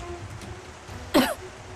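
A woman coughs once, a short harsh burst standing out clearly against a quiet indoor background hum, with no talking over it.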